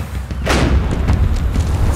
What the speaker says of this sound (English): Slowly, grab the cannon and kill him